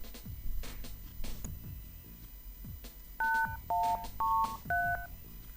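In the video game Runaway: A Road Adventure, a series of short two-tone keypad beeps entering a code, four distinct tones in a steady sequence, following soft footsteps and muted thuds in a quiet space.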